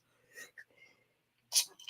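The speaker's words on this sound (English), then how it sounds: "Got that sneeze coming" A single sudden sneeze bursts out near the end after near silence and faint breathy sounds, close and sharp.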